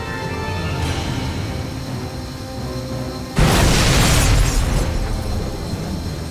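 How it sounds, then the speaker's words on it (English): A bridge blows up in the Xbox 360 game Air Conflicts: Secret Wars, a sudden loud boom and rumbling blast that bursts in partway through over steady background noise and then decays slowly. "Now that was an explosion."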